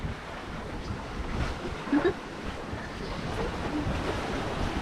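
Ocean swell of three-metre troughs rocks a sailboat on passage between Grenada and Bonaire, heard as a low, steady rushing wash of water and wind noise with a couple of faint creaks or knocks aboard.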